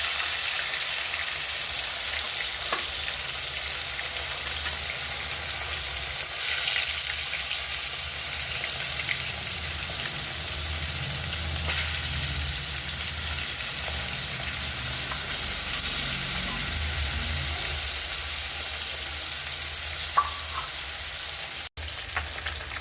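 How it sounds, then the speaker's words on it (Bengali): Koi fish coated in salt and turmeric fry in hot oil with a steady, close sizzle and soft crackling throughout, and a sharp clack of a utensil near the end. "একে একে কই মাছগুলো লবণ হলুদ মাখিয়ে তেলের মধ্যে দিয়ে দেবো।"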